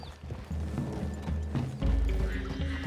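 Horse hooves clip-clop steadily in Red Dead Redemption 2 as riders move through trees toward a clearing, with a low ambient game soundscape underneath.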